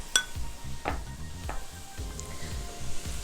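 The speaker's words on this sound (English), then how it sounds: "we're going to add our green onions as well. Give it a good mix." Green onions stirred into sizzling taco filling in a pan, with a few sharp scrapes of the utensil against the pan over a steady frying hiss.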